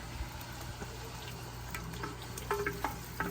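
Native chicken toasting in a clay palayok for tinola, a steady low sizzle and frying crackle with a few light stirring scrapes near the end, close and moderately quiet, no talking.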